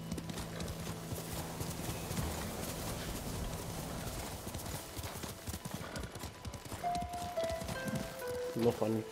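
Horse galloping in the video game Ghost of Tsushima, steady clip-clop hoofbeats heard under continuous talking and game sound.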